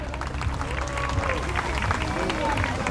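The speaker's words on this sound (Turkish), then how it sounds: "Alkış istiyorum güzel şov için arkadaşlarıma" A live crowd applauds after a dance show, a thick unbroken clatter of many hands with crowd murmur underneath, loud and even from start to finish.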